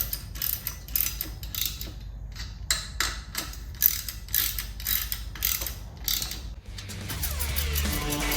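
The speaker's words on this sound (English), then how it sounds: "I'm going to just slowly tighten them" Ratchet wrench clicking in quick bursts as engine head bolts on a gas-powered 20-inch bike are slowly tightened, rapid metallic ratcheting strokes with short pauses, followed by a lower rattling hum at the end.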